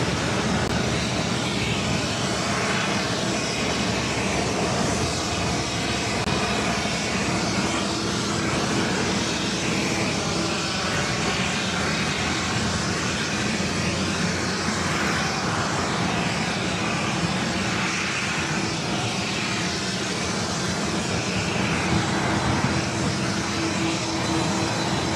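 A Virgin Atlantic Airbus A330-300 jet at JFK airport, a loud, sustained engine roar with rumbling texture that stays close and even for the full duration, no one talking.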